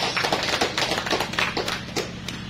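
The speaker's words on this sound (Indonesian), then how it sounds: "Mari kita berikan tepuk tangan untuk para katekis." Sparse, uneven clapping from a small audience at a church station gathering honoring catechists: a scattering of sharp individual claps at moderate volume.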